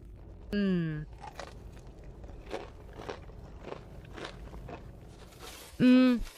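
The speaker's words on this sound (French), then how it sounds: "Tu as entendu ce croustillant?" Several crisp crunching bites into Popeyes fried chicken, spaced irregularly, with a short voiced exclamation at the start and end.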